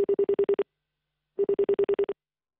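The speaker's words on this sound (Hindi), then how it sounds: "लगता है गौरव का फोन कट गया" A phone call drops during a studio broadcast, leaving line tones: two clusters of rapid electronic pulses, each a quick train of about seven beeps, separated by a second of silence, loud and alone.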